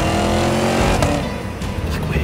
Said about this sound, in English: I'm just hearing the most ridiculous exhaust of all time.